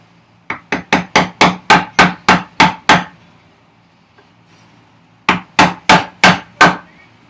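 A mallet drives a large chisel into wood, nine sharp evenly spaced thwacks in a quick run, a pause, then five more, loud and close with no talk.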